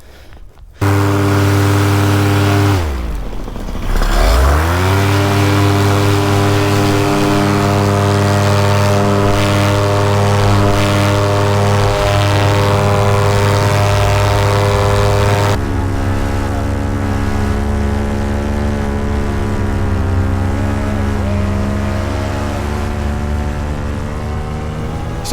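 A small airplane's engine drones loud and close as it departs, its pitch dipping briefly, then holding a steady, strong hum and shifting slightly in tone partway through.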